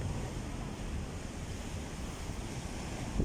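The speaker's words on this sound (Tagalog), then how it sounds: "Medyo malakas po ang alon." Strong surf rolling in at Manila Bay with gusty wind buffeting the microphone, a steady broadband wash of waves and wind noise throughout, no voices.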